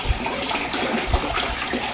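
Water pours steadily into a container that holds pet turtles and fish, a continuous splashing gush at moderate volume with no talk over it.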